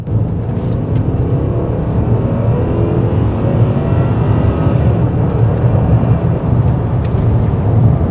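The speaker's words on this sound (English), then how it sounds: "Let's give her some throttle." A Mercedes S550 accelerating on the road, heard from inside the cabin as a steady, smooth engine and road roar that stays loud and even throughout, with no voices.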